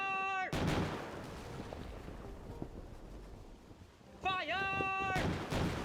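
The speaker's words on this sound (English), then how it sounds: "Nothing quite like a good old broadside." Ship cannons fire a broadside in the pirate game Forgotten Seas, a booming roar of blasts rolling over a long rumbling tail, with musical tones and game effects at the start and end.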